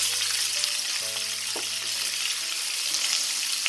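Sliced onion fries with a little salt in a pan of oil, giving a continuous close sizzle with faint background hum and a brief clink partway through.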